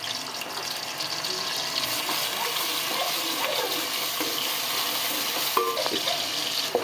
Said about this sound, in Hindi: अब इसके अंदर प्याज डाल देंगे और प्याज को ब्राउन करेंगे।